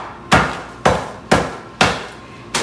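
A hammer smashes a bag of dry ice into chunks with five sharp, loud, close blows at a steady, roughly half-second rhythm. No voices are heard.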